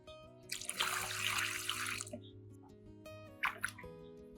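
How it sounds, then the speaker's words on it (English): Clean water pours and splashes over trimmed orchid roots, a close, steady rush lasting a couple of seconds, then a brief second splash and a few soft drips, with faint background music underneath. "After trimming, I'll rinse again with clean water"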